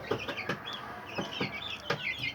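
Guinea fowl kept on a sunny balcony give rapid, repeated clucking and chirping calls, close by and continuous, with sharp pulses scattered throughout.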